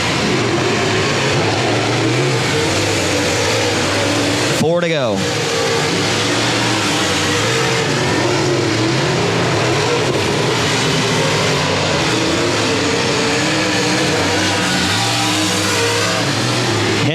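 Dirt track race cars roar around the oval at Boothill Speedway, a loud continuous engine drone with one car whooshing close past, while an announcer calls the race over the top.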